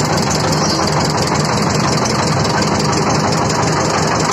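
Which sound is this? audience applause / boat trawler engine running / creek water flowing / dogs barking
boat trawler engine running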